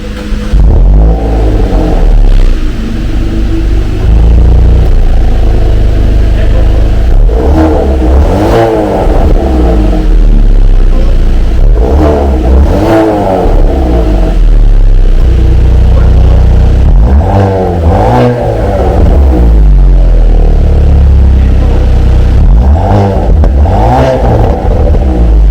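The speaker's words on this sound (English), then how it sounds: "The sound of the exhaust" Toyota GR Yaris or Hyundai Veloster N car exhaust revving, loud and close, with repeated rising and falling engine revs in several pulses over a steady deep rumble.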